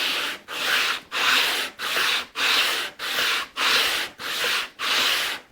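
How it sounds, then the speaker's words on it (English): Sandpaper on a radius block is worked back and forth over a bass guitar's wooden fretboard in nine even, rhythmic rasping strokes with brief pauses between them, close and clear without talk. "And starting to sand it in."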